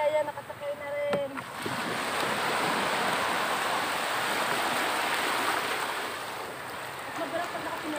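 Sea waves wash steadily around a small boat in a continuous close rushing and splashing, with a brief voice near the start.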